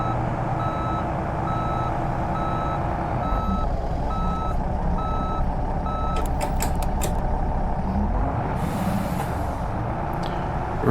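In the bus simulator OMSI 2, an MS Omnidekka bus sounds steady, evenly spaced reversing beeps over a loud, constant diesel engine drone, followed by a few clicks and a brief hiss of air near the end.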